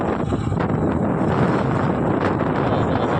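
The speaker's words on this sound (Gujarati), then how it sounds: "કેટલો પવન આવે યાર." Strong wind blows hard across the microphone outdoors, a continuous loud buffeting roar with gusty surges throughout and no clear talk over it.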